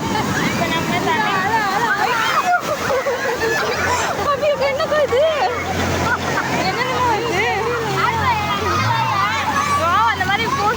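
Waves splash and surge over a noisy crowd at Marina Beach, many voices chattering and shouting together, with a low motor rumble in the background.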